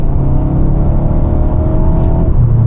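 Mercedes-Benz A250 from 2021, a 226 hp engine with a 7-speed AMG Speedshift gearbox, droning steadily from inside the moving car with a low, continuous rev tone and no talk.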